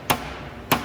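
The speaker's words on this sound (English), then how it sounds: "I'm going to try and tap that eyebrow down" A thin aluminum hood scoop eyebrow takes two sharp, close taps about half a second apart, each a quick bright knock over a quiet background.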